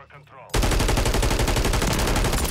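SVA 545 rifle firing in Call of Duty MW3, a dense, loud continuous burst of rapid shots that starts abruptly after a brief moment of quieter sound and carries on to the end.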